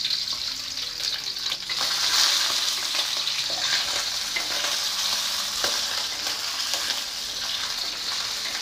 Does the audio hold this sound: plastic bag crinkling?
no